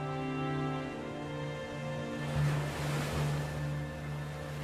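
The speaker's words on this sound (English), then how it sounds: "Where the waves roll in from the open Atlantic, the barrier islands are a difficult place for living things." Open Atlantic surf rolling onto a North Carolina Outer Banks barrier island beach, a continuous low roar of waves that swells into a louder crash midway, heard near and without speech.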